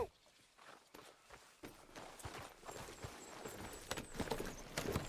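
Horse hooves walking in the video game Red Dead Redemption 2, a faint, steady clip-clop that strengthens toward the end, with low ambient noise and hardly any talk.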